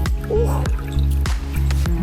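Water pours and gurgles fast outdoors in wild water, a loud, close, bubbling stream with rhythmic glugging pulses throughout.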